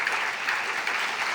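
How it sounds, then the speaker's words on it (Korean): A church youth group audience applauds to welcome a speaker, a brief dense wash of clapping from many hands at steady volume. "우리 혜림이가 나올 때 우리 좀 박수를 쳐주면 좋겠습니다."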